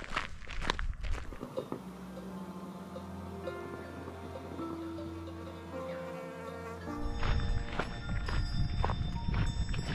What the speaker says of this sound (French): On a des vaches autour de la voiture.